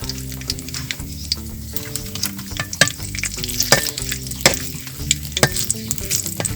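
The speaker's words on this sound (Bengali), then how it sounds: "4টা এলাচ দিয়ে দেব, কয়েক টুকরা দারচিনি দিয়ে দেব। এগুলো এখন একটু হালকা একটু ভেজে নেব।" Cardamom pods and cinnamon pieces, with bay leaves, lightly frying in oil in a pan for a murabba; a loud, close crackling sizzle with rapid pops and repeated scraping stirs throughout.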